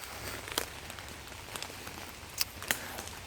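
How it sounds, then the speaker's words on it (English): A constant soft patter of rain under a big tree with scattered heavier drops tapping sharply on leaves nearby, quiet and without voices. "you can certainly hear all the heavy water drops falling on the different leaves"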